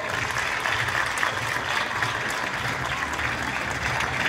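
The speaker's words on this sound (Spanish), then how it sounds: "Pido un gran aplauso para él." An audience at a formal municipal event breaks into dense, continuous applause, many hands clapping together at a steady level for several seconds with no pauses.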